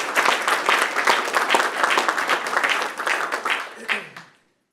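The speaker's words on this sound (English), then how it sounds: "Yes, one more round of applause." Audience applause at a healthtech startup cohort showcase, a dense, steady round of clapping from a crowd lasting about four seconds before cutting off abruptly.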